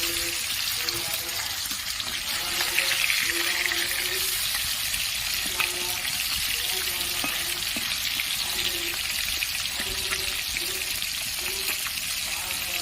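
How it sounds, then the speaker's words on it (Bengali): Rohu fish pieces fry steadily in hot oil, a continuous close sizzle and crackle running the whole way through with faint stirring and water-like hiss beneath. "এভাবে লাল লাল করে মাছগুলো ভেজে নেবো।"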